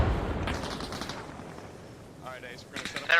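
Gunfire in Arma Reforger arrives as scattered bursts and sharp cracks, some close and some more distant, in a brief chaotic exchange.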